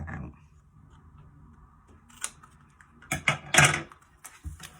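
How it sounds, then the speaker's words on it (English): Scissors snip through craft material while a box frame is being assembled. Four or so sharp, close cuts land separately in the second half over quiet background, with no talking. "and then snip that one out"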